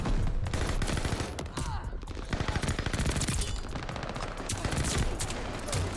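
Dense rapid gunfire from the Marco-5 in Call of Duty Vanguard, loud bursts of shots running almost continuously, with game effects layered underneath.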